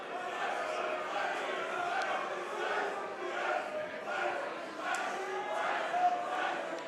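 AIW independent wrestling crowd at a live show, a dense continuous roar of cheering and chanting voices, loud and steady throughout with swelling peaks.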